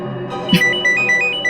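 Phone ringtone of an incoming call, a short melodic sequence of bright electronic tones playing clearly after a brief thump, sounding close over quiet background noise.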